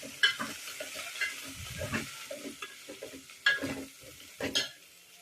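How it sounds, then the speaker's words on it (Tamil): Drumstick pieces sautéed with salt, asafoetida and sambar powder for a Tamil sambar, giving a steady sizzle under repeated stirring and spoon scrapes against the pan, close up and with no talking. "இதெல்லாமே போட்டு நல்லா வதக்கி விடணும்."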